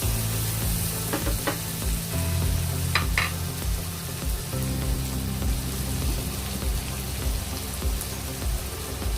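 Onion, garlic and mushroom sauté in a pan for a white sauce with a steady close sizzle and a few scraping stirs, and no one speaks.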